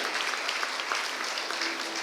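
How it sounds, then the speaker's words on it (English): Audience applause at a school association's silver jubilee celebration, a dense, steady wash of many hands clapping throughout, fairly loud and even with no talk over it. "A warm and cordial welcome to Meghana KDIAS. Round of applause."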